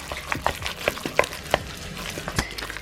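Shrimp paste being mixed in a bowl, a series of close, moist slapping and clicking strokes at an uneven rhythm, fairly quiet with no talking.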